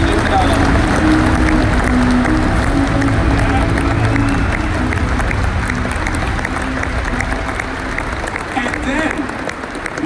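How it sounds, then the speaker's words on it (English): A large crowd applauds at the KLM 100-year celebration party, loud sustained clapping that holds steady for several seconds before tapering slightly, with some cheering and chatter underneath. "I would like to give them a big round of applause."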